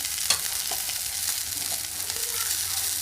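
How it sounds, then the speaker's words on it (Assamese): Cumin powder goes into a hot frying pan with a steady, loud sizzle, with a few scraping stirs against the pan and no voices. "আৰু ইয়াতে অকমান মই জিৰা পাউডাৰ দিম"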